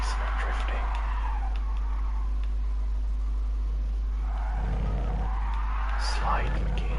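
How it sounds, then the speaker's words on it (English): Engine hum with tires squealing and skidding in long sweeping slides in Gran Turismo Sport, a voice talking over it at times. "This car is decent at drifting."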